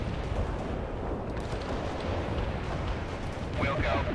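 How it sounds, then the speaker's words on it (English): Artillery barrage in the real-time strategy game World in Conflict: a dense, unbroken roar of rumbling impacts and blasts that swells slightly toward the end, with voices mixed into the din. "Artillery barrage inbound."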